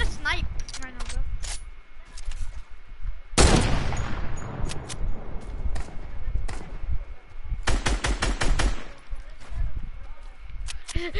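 Bursts of gunfire and single rifle-like sniper shots from a shooter video game, loud and close, with a heavy crack near four seconds and rapid volleys later, while a player talks over the action.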